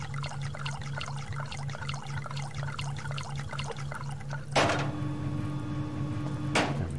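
Water being drunk in the survival video game Subsistence: a steady run of rhythmic gulping, swallowing sounds plays alone over a low background hum, followed by two sharp, louder clicks or bursts near the end.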